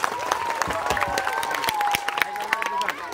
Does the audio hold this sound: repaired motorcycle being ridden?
no